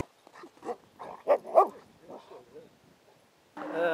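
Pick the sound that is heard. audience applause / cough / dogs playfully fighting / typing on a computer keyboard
dogs playfully fighting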